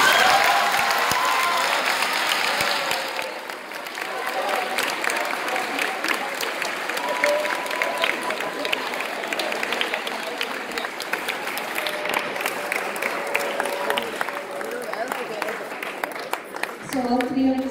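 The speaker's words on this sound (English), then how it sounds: "A warm round of applause to your parents and caregivers" A school audience gives a warm, sustained round of applause for parents and caregivers at a boys' semi-final results event, steady dense clapping filling the room throughout with crowd noise.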